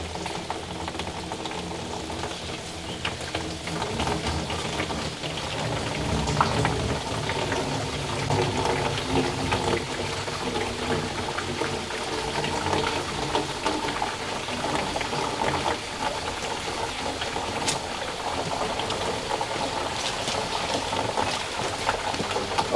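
Shower grey water runs through a PVC pipe with a steady, soft trickling and gurgling that carries on evenly and fairly quietly with no talking.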